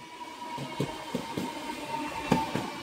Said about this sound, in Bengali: এই হচ্ছে হাওড়া পুরুলিয়ার মেমো ট্রেন।